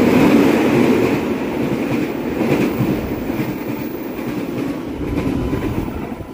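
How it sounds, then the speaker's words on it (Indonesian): A fast train rushes past a private station in a luxury housing estate, a loud, close, steady rumble with wheel clatter that eases slightly toward the end. "itu kereta cepet banget"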